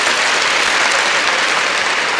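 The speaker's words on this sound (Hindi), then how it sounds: "एक बार तालियां होनी चाहिए अब्दुल" Loud, dense applause from an audience at a motivational speech event for Abdul Qadir sir, a continuous wash of many hands clapping close and even throughout.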